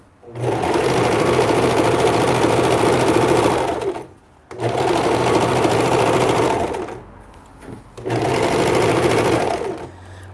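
A sewing machine stitches an apron in three sustained runs of fast, even whirring, with short pauses between them while the fabric is adjusted.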